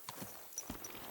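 A few light, irregular hoofbeats clop briefly from a horse in Kingdom Come: Deliverance II, close by and fairly soft.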